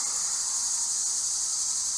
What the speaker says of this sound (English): Can you hear those summer cicada bugs?